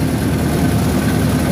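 An International Cub Lo Boy 154 tractor engine runs steadily at a low, rumbling idle, loud and close, with no talk over it.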